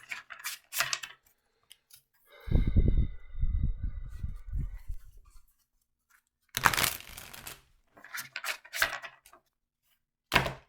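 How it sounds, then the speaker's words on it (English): Several bursts of tarot cards being shuffled and riffled up close, with papery flutters and taps separated by short pauses. "And now the little shuffle."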